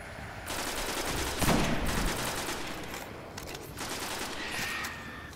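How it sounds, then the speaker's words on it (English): Rapid weapon fire from a fusion rifle in the video game Destiny, a dense crackling burst that swells and holds for several seconds in a loud, busy game mix. "Yeah, fusion rifle to the face."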